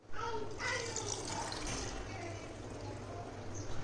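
Sour brine from salted, turmeric-coated fruit pours into a pickle jar of gunda in a steady, continuous splash for several seconds while a voice talks over it.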